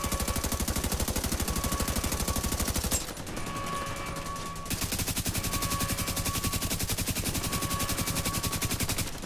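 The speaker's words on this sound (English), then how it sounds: "I'm shooting it." Rapid automatic gunfire from a video game fires in dense, steady bursts, breaks off briefly for a couple of seconds, then resumes; loud and close, with no talking.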